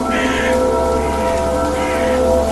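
Steady rain falling in the Evil Nun horror video game forms a continuous, even hiss, loud and unbroken, with held tonal background music underneath.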